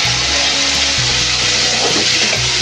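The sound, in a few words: frying prawns in oil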